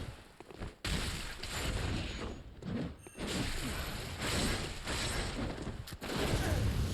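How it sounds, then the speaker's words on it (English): Enemy hunter firing pistol shots in the Bloodborne video game, a dense, loud barrage of blasts and combat noise with a few brief gaps, packed and continuous rather than spaced single shots. "He basically kills you with one of his pistol shots."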